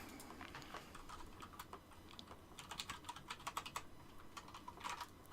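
Someone types on a computer keyboard during a gaming session, with quick, irregular, fairly faint key clicks that grow busier toward the end.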